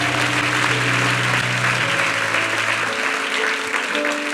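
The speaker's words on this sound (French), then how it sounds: "Acclame le Seigneur avec moi. Acclame-moi Jésus." Church congregation cheering and applauding in praise during a French-language worship service, a steady, dense wash of clapping and voices that holds loud throughout, with sustained tones underneath.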